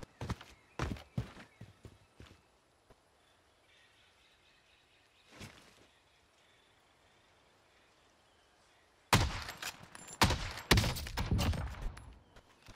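An MK2 gun fires in a shooter video game: scattered shots early on, then a dense cluster of rapid, loud shots in the last few seconds.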